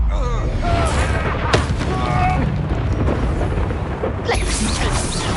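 Hogwarts Legacy's Incendio fire spell bursts with loud booming blasts and crackling flares, sitting among game effects and a shouted voice, with another burst near the end.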